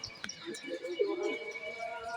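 Caged pigeons in a coop make a brief cooing call at mid-volume, with a few soft chirps and rustles in the background and no speech.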